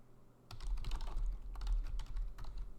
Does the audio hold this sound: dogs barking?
no